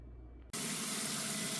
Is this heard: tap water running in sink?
yes